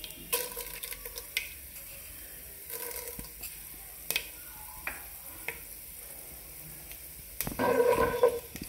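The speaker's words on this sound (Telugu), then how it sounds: "తాలింపు ఎర్రగా వేగాలండి." Fenugreek seeds, chana dal and urad dal fry in hot oil as a tempering, a faint steady sizzle broken by scattered ticks and clinks of stirring, ending in a louder burst of frying.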